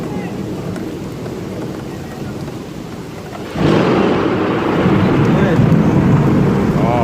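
Steady hail pattering down during a thunderstorm in Mecca, a dense hiss that suddenly grows louder and heavier partway through, with a low rumble underneath.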